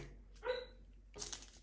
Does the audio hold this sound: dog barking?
yes